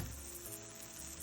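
A pancake fries in a pan with a soft, steady sizzle, quiet and close, and no one talks.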